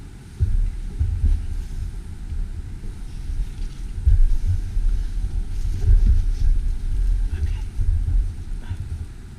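Coolster Challenger 125 buggy go-kart engine droning steadily on a test ride, a low continuous rumble with wind buffeting as a person talks over it.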